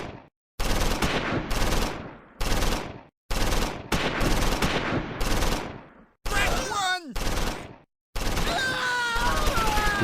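Bursts of gunfire from the Close Combat 4 Battle of the Bulge wargame, loud rattling volleys in separate chopped segments with brief silences between them, mixed with faint cries.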